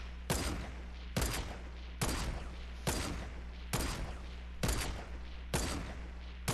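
Repeated gunshots from the Fortnite video game, eight loud bursts spaced roughly a second apart, each sharp crack trailing off over steady background hum, with no talking.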